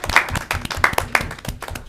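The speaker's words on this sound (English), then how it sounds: "Should we clap?" Scattered clapping from a small audience at a city council meeting, a handful of distinct close claps in loose, uneven rhythm, with faint murmurs beneath.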